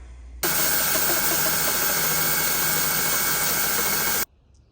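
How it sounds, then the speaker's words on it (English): A rotary phase converter in a metalworking forge shop spins up abruptly into a loud, steady mechanical whine and hum that holds constant for several seconds before cutting off sharply. "This is my rotary phase converter, and this works its magic and gives me 3-phase power."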